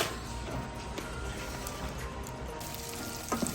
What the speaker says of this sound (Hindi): मगज़ फ्राई बना रहे हैं मेरे हस्बैंड साहब